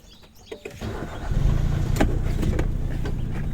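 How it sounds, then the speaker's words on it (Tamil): A car engine cranks and catches during a driving lesson, settling into a steady, close idle that rumbles on alone after a brief quiet start. "வண்டி ஸ்டார்ட் பண்ணுங்கள்"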